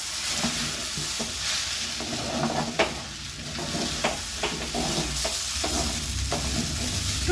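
Food frying in a pan sizzles steadily while a spoon stirs it in scattered scraping strokes, close and fairly loud, with no talk.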